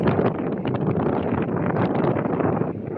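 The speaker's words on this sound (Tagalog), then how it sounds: "Lakas ng hangin" Strong wind buffets the microphone continuously, a loud roaring rush with gusty fluctuations and no voices.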